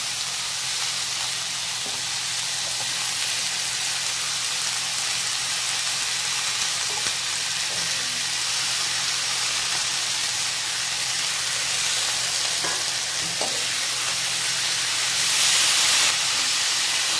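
Carrots, green chillies and potato pieces fry in a hot pan for a cauliflower curry, giving a steady broad hiss and sizzle with faint clinks and stirring scrapes throughout, no voices.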